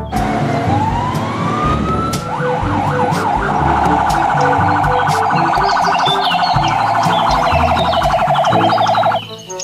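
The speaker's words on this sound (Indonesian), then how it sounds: "Yang ini ada mobil pemadam kebakaran." A toy fire truck siren wails loudly and steadily, its electronic tone rising and warbling continuously for several seconds before cutting off.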